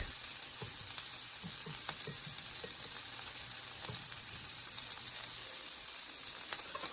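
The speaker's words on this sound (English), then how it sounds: "I've been stir-frying them for about 3 minutes" Constant crackling sizzle of vegetables stir-frying in a hot pan for a chicken soboro bowl, with occasional soft scrapes and stirring sounds.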